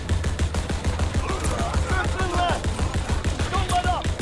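Rapid automatic gunfire from a World War 2 shooter, a dense steady stream of shots, loud and close, with a voice talking over it.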